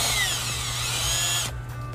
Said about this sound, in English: we're going to use a 12 millimeter socket and our electric drill